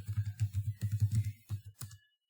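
Quick run of soft keystrokes on a computer keyboard, close and fairly quiet, tapped in a steady rhythm for about two seconds before stopping.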